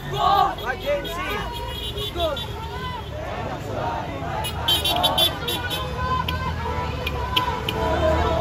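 Motorists honk car horns on a crowded street in Malolos, Bulacan during a youth street march, short toots repeating over loud crowd chatter and traffic.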